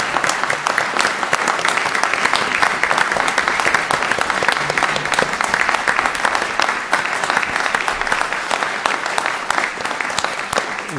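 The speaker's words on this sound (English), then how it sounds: "we'd like to give you a round of applause" Applause from a town meeting audience honoring the town officers, steady dense clapping throughout, close and loud with no break.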